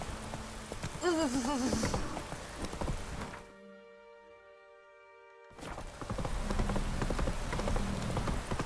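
Rain and clopping hooves fill the scene in The Witcher 3: Wild Hunt, with a voice speaking over it, then a sudden near-silent gap before the rainy ambience returns.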